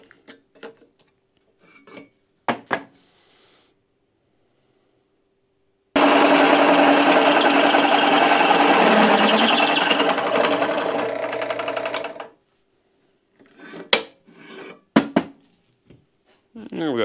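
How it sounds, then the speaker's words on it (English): Drill boring two new holes in metal for a leaf spring mount on a Loadstar front axle, one steady loud run of about six seconds between brief clanks and handling noises. "There we got 2 new holes drilled."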